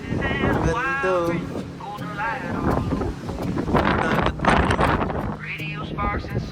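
Wind blows outdoors in Hawaii behind a building, buffeting the microphone in steady gusts under nearby conversation.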